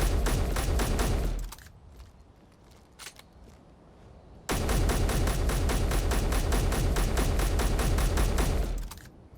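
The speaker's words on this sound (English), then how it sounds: "Okay, I'm gonna fire 3 magazines into it." Rapid automatic gunfire in the Space Engineers video game rattles out in a long loud burst, stops for a few seconds, then resumes in a second sustained stream of evenly spaced shots.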